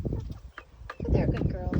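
Backyard hens in their pen cluck softly and peck at an empty bowl, with brief pecking taps and bird calls heard close by, mixed with light rustling.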